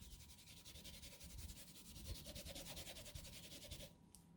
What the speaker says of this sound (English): I put a little bit on there, I blot it, and then I come over here and I just rub it off.